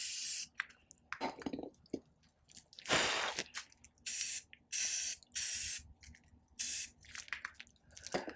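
Short bursts of hissing yellow spray paint from an aerosol can, used for hydro dipping shoes, repeated several times with pauses between, close up and fairly quiet.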